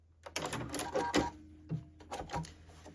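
A sewing machine stitches a dart at the fold edge of blazer fabric in a few short, close bursts of rapid needle clatter. Brief pauses separate the back-and-forth runs.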